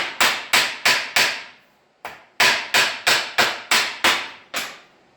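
Sharp metallic hammer blows stretch a sheet-metal drip rail on a Vauxhall Victor car, ringing out one after another in a steady rhythm, a short pause, then another run of strikes, close and loud with no talking.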